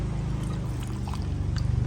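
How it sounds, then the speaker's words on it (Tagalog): Water is poured from a container into planting holes in farm soil being readied for okra, a low, steady gurgling splash, close and continuous with a slightly pulsing texture. "Binabasahan nga ng tubig yung mga butas, no?"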